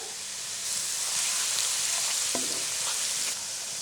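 Onion and tomato paste sautéing for meatballs makes a loud, steady hiss and sizzle in the pan, rising sharply after a quieter start, with a brief utensil clink midway.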